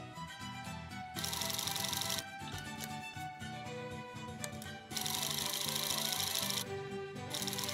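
Sewing machine stitching a fabric collar, the needle running in steady mechanical bursts with short pauses between runs, close up and fairly quiet.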